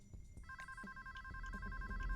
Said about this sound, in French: Donc là, les sonneries s'accélèrent un peu.